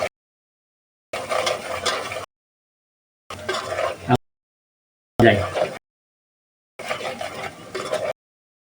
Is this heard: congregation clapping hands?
no